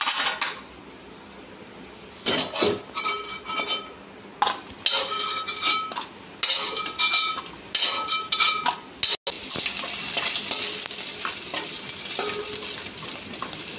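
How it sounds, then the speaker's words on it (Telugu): Cashews frying in ghee in a pan on the stove for chicken dum biryani, a steady sizzle broken by bursts of clinking and stirring against the pot, then a louder continuous hiss toward the end. "నెయ్యిలో జీడిపప్పు ఫ్రై చేసుకోవాలి"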